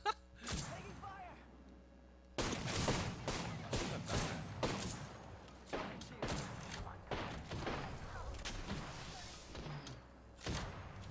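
Apex Legends gunfire crackles in a dense, close exchange: rapid sharp shots and thuds in uneven bursts over several seconds, with players talking over the shooting.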